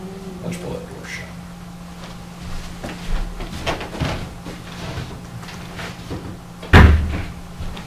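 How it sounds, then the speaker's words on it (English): In a Sac County, Iowa magistrate courtroom, a door is pulled shut, closing with one loud thud near the end of the clip after quiet talk and room noise. "let's pull that door shut"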